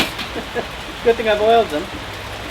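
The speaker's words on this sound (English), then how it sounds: "it suddenly started really raining on me" Rain falls outdoors as a steady soft hiss. Someone speaks over it partway through.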